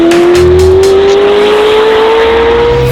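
A Ferrari 812 fitted with a full Novitec exhaust system, X-pipe and downpipe, accelerates hard in Dubai, its engine note rising steadily in one loud, continuous roar close by with no talk.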